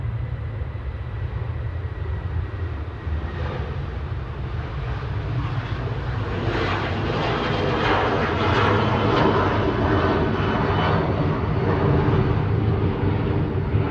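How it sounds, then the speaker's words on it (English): A Ryanair airliner bound for Cork departs Manchester Airport on the first scheduled flight of the day, its jet engines a steady, loud broadband roar that builds slightly and holds throughout, with no talk over it. "And here we have the first scheduled departure of the day."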